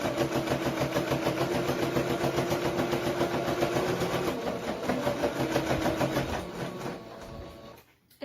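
Sewing machine stitching around fabric with black thread, a steady rapid mechanical chatter that runs evenly and close for most of the stretch before slowing and stopping near the end.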